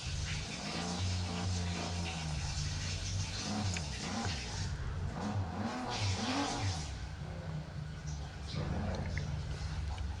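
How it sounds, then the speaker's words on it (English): Race car engine in the NFS No Limits mobile game revving hard and over-revving at the launch, with a loud, steady drone and sweeping pitch rises and falls throughout. "Got an over rev this time."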